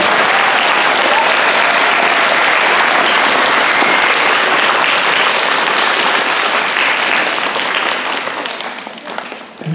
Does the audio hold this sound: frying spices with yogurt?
no